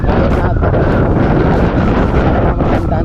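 Strong wind buffeting the microphone of a moving motorcycle, a loud, constant low roar with gusty surges throughout while someone talks under it.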